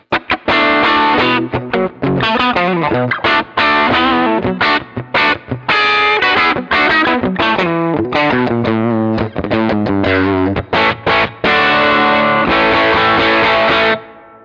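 Distorted electric guitar playing a lively run of chords and single notes through a Fender Blues Jr. amp preset with reverb, loud and close, no talking.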